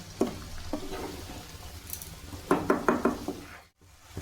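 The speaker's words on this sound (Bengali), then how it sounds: "মাঝে মাঝে এইভাবে একটুখানি নেড়ে দিচ্ছি কাঠের খুন্তি দিয়ে" A wooden spatula stirs a simmering pot over a lowered gas flame, giving a few soft scraping knocks in small bursts, close and fairly quiet, with a faint sizzle beneath.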